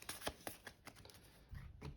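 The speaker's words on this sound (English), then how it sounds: "And then I'm going to shuffle these." A deck of game cards is shuffled by hand close up, giving a series of quick papery riffles and flicks in an uneven rhythm, fairly quiet, with no talking.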